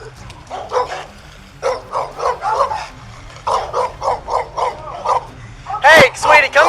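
A dog barks in repeated bursts of yips and whimpering barks, fairly close and loud, mixed with people talking and ending in a sharper, louder cluster of barks.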